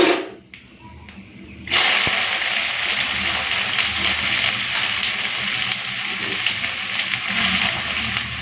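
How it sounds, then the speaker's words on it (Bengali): Chopped onion dropped into hot mustard oil already tempered with bay leaf and whole garam masala: after a quiet moment, a sudden loud sizzle erupts and continues as a steady, close, crackling hiss. "তেজপাতা, গোটা গরম মশলা ফোড়ন দিয়ে পেঁয়াজ কুচি দিয়ে দেবো।"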